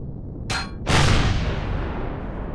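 Cannon fire and explosions in the space survival game Empyrion Galactic Survival: a sharp blast followed by a louder, rumbling explosion that lingers and fades slowly, with no talking.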